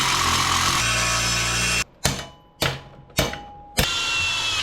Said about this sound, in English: Gonna go ahead and saw them out real quick